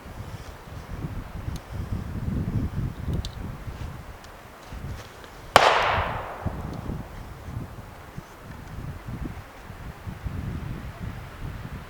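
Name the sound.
AR rifle shots fired with a Bushnell 3-9X scope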